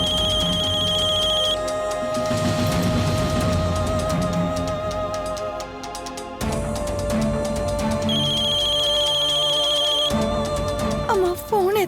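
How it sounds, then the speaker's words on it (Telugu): A phone ringtone plays loudly with a repeating melodic electronic pattern over dramatic background music, recurring in two bursts across the stretch. "అమ్మా ఫోన్ ఎత్తండి."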